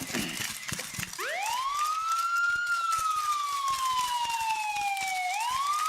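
An American police car siren wails loudly, sweeping up and slowly falling in pitch, then rising again, with faint background noise before it starts.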